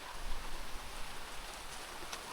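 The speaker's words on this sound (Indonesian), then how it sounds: "sekarang sudah gerimis nih, malah hujan nih." Light rain falls steadily on a trail on Mount Agung, a soft, even hiss of drops throughout, fairly close, with no talk.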